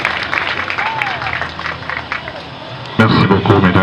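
A funeral congregation breaks into applause and acclamations, a dense crowd of clapping and voices that is loud throughout and swells louder toward the end.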